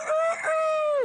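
A man imitates a rooster crowing with his voice, giving one loud, close, drawn-out cock-a-doodle-doo with a brief break in the middle, on a comedy game show stage.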